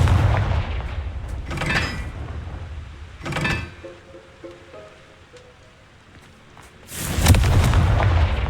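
Confringo fire-blast spells explode in the video game Hogwarts Legacy: three loud, booming blasts, two close together early on and a heavier one near the end, with quieter rumbling between.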